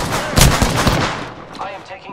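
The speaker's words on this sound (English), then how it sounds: "Opening fire on the enemy." Apex Legends gunfire in a match: a sharp volley of shots near the start, followed by quieter trailing reports and game noise, loud and close with no talking.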